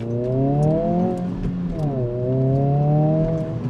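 An 11th-generation Honda Civic Si engine revs up close, its pitch climbing and then dropping twice in a row with a smooth, throaty drone.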